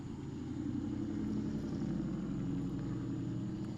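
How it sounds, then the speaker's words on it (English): A car passing outside in a backyard: a low, rumbling engine and road noise that holds steady for a few seconds, moderately quiet and heard alone without talk. "I'm gonna wait till they car go by."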